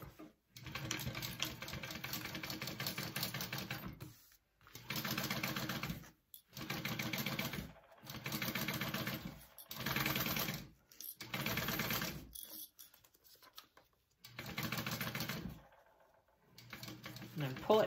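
Sewing machine basting a seam on a crossbody bag, running in several short even bursts separated by brief pauses, close and clear, with a person speaking between runs.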